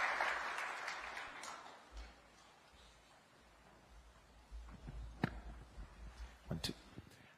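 An audience applauds after the Kenyan president's speech, a diffuse wash of clapping that fades, then scattered sharper claps and a few voices close by.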